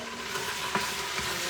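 Free-range chicken pan-fries with a steady close sizzle, broken by a couple of brief louder spits.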